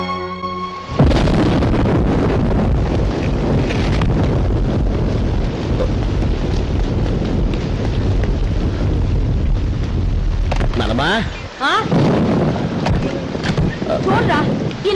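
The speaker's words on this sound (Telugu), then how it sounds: "ఇప్పుడు అర్ధంతరగా ఈ వర్షం పట్టుకుంది" A sudden heavy downpour with thunder strikes a house with a leaking roof, a dense, steady roar of rain that starts abruptly and runs loud throughout, with voices speaking briefly near the end.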